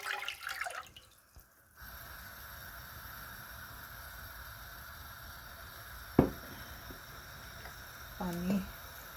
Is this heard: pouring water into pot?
yes